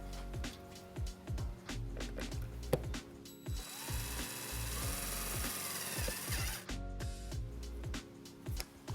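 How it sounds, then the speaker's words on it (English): A power driver spins a self-tapping screw into a 2007 Hyundai Tucson body to fasten a ground wire, giving a close whirring burst amid clicks and ratcheting handling noises. "Now we're going to attach our white wire to the ground with our provided self-tapping screw."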